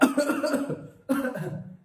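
Two bursts of asthmatic coughing close to the microphone, a short pause between them, the second fading out.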